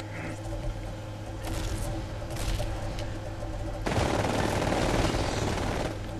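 Rapid automatic gunfire in the Titanfall video game, dense bursts of shots layered over in-game rumble and effects that grow louder and more continuous partway through.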